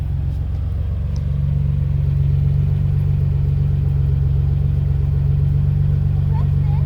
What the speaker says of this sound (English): go in the car and press the gas